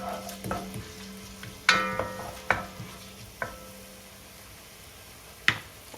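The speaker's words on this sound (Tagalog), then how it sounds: "Lalagyan ko na po siya ng garlic." Garlic frying in a pan, with a soft continuous sizzle under several sharp clatters as it is stirred, a steady hum running through.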